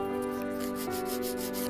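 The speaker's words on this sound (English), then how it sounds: "Now, I'm gonna go in with our Divinity Shaper file with 100 and 180 grit." Quick rhythmic back-and-forth rasping of a 100/180 grit shaper file on the side walls of an acrylic nail, close and steady, over a background music tone.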